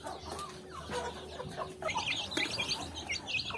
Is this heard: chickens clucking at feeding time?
yes